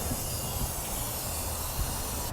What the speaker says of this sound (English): Just to paint the firewall and get it all looking nice under here.